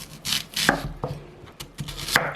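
A knife chops through a halved onion on a cutting board, giving about half a dozen crisp, close thuds at an uneven pace, with no voices.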